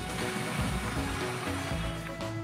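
Water pours steadily into the tub of a Panasonic single-tub washing machine, a continuous close splashing rush that holds even for the whole stretch with no talk.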